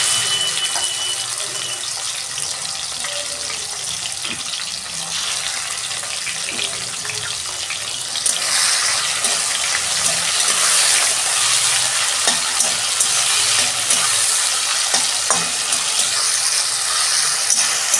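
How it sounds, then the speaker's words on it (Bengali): Shrimp frying in a hot pan of oil for a Bengali bottle gourd and prawn dish, with a steady loud sizzle that swells louder midway and keeps going unbroken, with no voices. "কড়াও গরম হয়ে গেছে, আমি এবার চিংড়ি মাছ দিয়ে দিচ্ছি"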